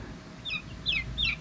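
Backyard chickens, part of a flock with eight new birds, give three short rising calls in quick succession over a faint, quiet background.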